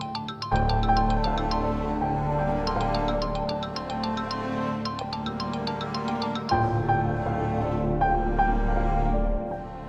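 A phone ringtone plays on and on without being answered, a bright repeating melodic chime in two long cycles, loud and close with no one speaking over it.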